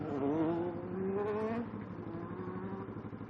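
A Honda CBR motorcycle engine revs hard with a steady rising whine as the rider pulls a wheelie, the pitch climbing then easing off, fairly distant and moderate in level.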